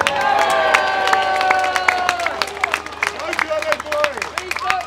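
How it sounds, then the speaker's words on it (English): A crowd at a St George's Day rally in London claps and cheers together, scattered sharp claps over a bed of excited voices and whistles, fairly close. "Give John a round of applause."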